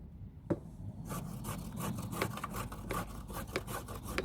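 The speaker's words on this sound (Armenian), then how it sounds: "Խոշորով եմ քերում, կարող ենք մանրով էլ քերել, բայց խոշորով ավելի լավ է ստացվում" Vegetables being grated on the coarse side of a hand grater, a brisk run of rhythmic scraping strokes, close and steady.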